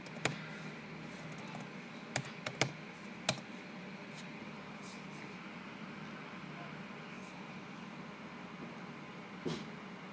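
Scattered keystrokes on a computer keyboard, a few sharp clicks in short bursts, sit quietly over a low room hum, with no talking.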